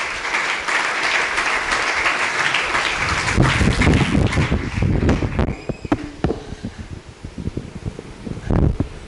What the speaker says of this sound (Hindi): आइए, सबसे पहले हम सभी जगत गुरु भगवान शंकराचार्य जी के श्री चरणों में जोरदार तालियां बजाएंगे।